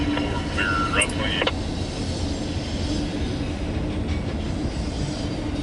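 A loaded CSX autorack freight train rolls past with a continuous heavy rumble and rhythmic wheel clatter, and a brief voice-like sound appears near the start.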